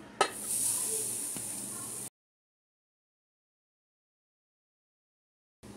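Fresh grated coconut hits a hot pan for roasting a Malvani onion-coconut masala, giving a sharp initial crackle then a steady bright sizzle for about two seconds before silence, with a brief return of sizzle at the end.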